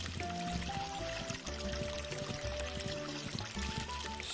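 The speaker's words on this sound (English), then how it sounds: "So yeah, I might as well water my plants, I guess" Water gushes from a watering can onto crops in the farming game Re:Legend, a steady pour over tonal game music, with no talking.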